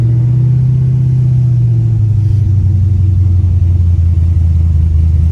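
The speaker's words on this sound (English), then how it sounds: "Drives real nice, real smooth, and it's got that loud rumble." A 1957 Chevy Bel Air with a swapped-in LS engine idles nearby, a loud, steady low rumble, deep and throbbing, with a slight shift in pitch partway through.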